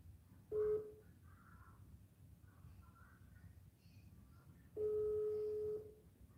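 Telephone ringing tone during a call: two steady electronic beeps, a short one then a longer one, sounding faint over low background hiss with a few distant bird calls.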